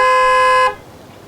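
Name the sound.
small vehicle horn blast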